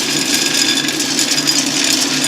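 Steady mechanical whir and hum from the grate drive of a 1959 Axeman Anderson 130M coal stoker boiler as the grate shifts back and forth, continuous and close with no distinct clunks.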